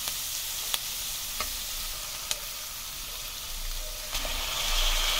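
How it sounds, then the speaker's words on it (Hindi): Finely chopped tomatoes and mixed vegetables fry in a little oil in a pan, giving a continuous close sizzle broken by a few sharp clicks of a spoon stirring against the pan. "और टमाटर को अच्छे से चलाएंगे, इसको मिक्स करेंगे।"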